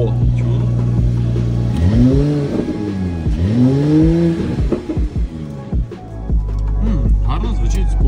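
Audi car engine revving through its exhaust, close and loud, with rising and falling rev sweeps and sharp throttle blips, while people talk over it.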